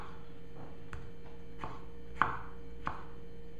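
A tomato is chopped with a carving knife on a cutting board, five or six sparse, irregular knocks of the blade striking the board, close and fairly quiet with a faint background hum.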